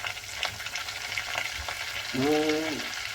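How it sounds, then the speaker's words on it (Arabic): Flour being stirred into melted butter in a pan, with a steady close sizzle, scraping spoon strokes and a brief squeaky scrape near the end. "هدول بحركهم مع بعض مع الزبده"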